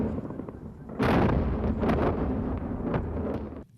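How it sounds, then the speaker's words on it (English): Bombs striking Baghdad in the first U.S. airstrike of 2003, a dull rumbling roar of distant explosions that swells suddenly and rolls on with wind-buffeted low booms, loud and sustained with no talk. "That's the sound of bombs hitting the city of Baghdad from the first U.S. airstrike in 2003."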